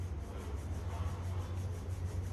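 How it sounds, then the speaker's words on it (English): Palms rubbing together at the close of a power yoga session make a soft, steady, continuous friction hiss that stays even and close for the whole stretch, with no talking. "Rub your palms."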